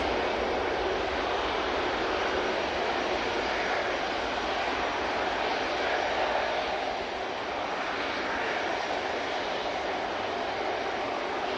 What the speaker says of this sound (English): This Ryanair's off to Marrakesh.